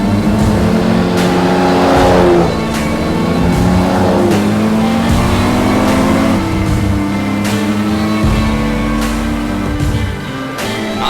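An Aston Martin sports car races to the finish line at the Goodwood Revival 2022, its engine roaring loud and close. It revs and shifts in rising sweeps, with other engines layered alongside and no talk.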